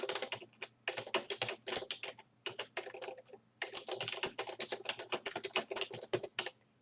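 Quick bursts of typing on a computer keyboard while writing in Microsoft Word, a close, dry clatter of keys broken by short pauses, with no voices.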